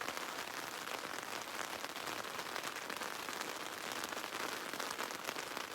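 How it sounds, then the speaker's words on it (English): Steady, dense rain falling, a continuous even hiss with no pauses or voices. "It's raining."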